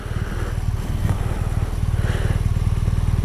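A BMW R1200R motorcycle with its stock exhaust idling nearby, giving a steady, soft, low-pitched pulsing engine beat that holds even throughout.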